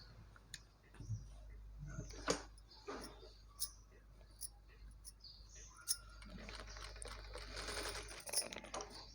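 Sewing machine stitching a maggam work blouse, heard as short bursts of quick mechanical clatter separated by pauses, close and fairly quiet with no talk.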